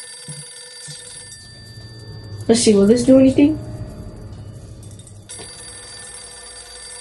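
A telephone rings on and off in the video game Poppy Playtime Chapter 3 as a steady background tone, while a person talks over it in the middle.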